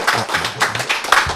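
An audience at a lecture claps in a brief, uneven burst of hand claps, close and moderately loud, with no talking over it.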